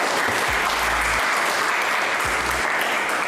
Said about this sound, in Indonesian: beri tepuk tangan untuk Nicholas.